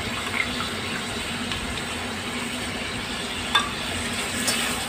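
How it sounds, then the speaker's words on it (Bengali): Sauce poured into frying vegetables for chilli chicken gives a steady low sizzle and hiss with a faint liquid splash and a brief clink near the end; close, fairly quiet, no talking. "পুরো সসটা আমরা দিয়ে দেব সবজির মধ্যে"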